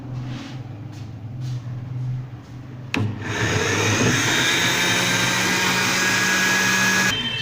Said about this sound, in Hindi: दूध शामिल करने के बाद अभी मैं मशीन को ऑन करता हूँ, ब्लेंडर को।